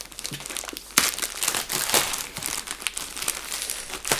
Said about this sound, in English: I think this plastic's going to get destroyed.